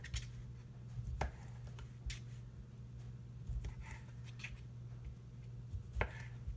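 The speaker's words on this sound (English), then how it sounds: "So we're just going to cut it into maybe 2-inch pieces" Knife chopping through seasoned sausage into 2-inch pieces for a sheet pan dinner: a handful of sharp, separate cuts against a board, close and fairly quiet, with a low steady hum behind them and no talking.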